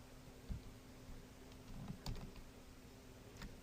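Computer keyboard shortcut keys pressed while working in a 3D editing program, a handful of quiet scattered clicks and taps over a faint steady hum, no talk.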